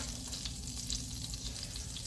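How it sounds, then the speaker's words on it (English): Minced garlic fries in butter and oil with a dense, steady crackling sizzle, close and even throughout with no pauses. "So let's throw our minced garlic in the butter and oil"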